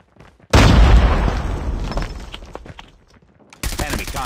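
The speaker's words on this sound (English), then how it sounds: "Missile inbound." Missile explosions and gunfire in Call of Duty Mobile erupt as a loud, booming blast that rolls into rapid shots, fades, then a fresh burst of firing hits near the end, with voices in the mix.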